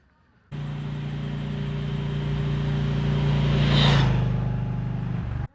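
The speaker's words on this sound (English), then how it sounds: "we are riding the Gold Wing manual transmission" A 2021 Honda Gold Wing with a manual transmission runs at a Honda test-ride tent, its engine holding a steady, smooth hum that swells briefly before cutting off.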